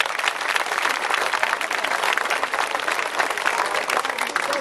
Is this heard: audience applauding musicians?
yes